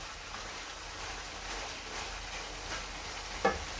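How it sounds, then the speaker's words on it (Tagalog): Pig ears fry in a pan for dinuguan while being stirred, a steady close sizzle with soft scraping and one sharper knock near the end, with no talking. "ihalo ko na rin guys yung ating tainga para lumambot na rin siya at maging brown"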